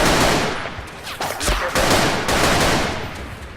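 Loud machine gun fire in bursts during a Battlefield Somalia match in an alleyway, dense sharp cracks with brief pauses, continuous and close throughout.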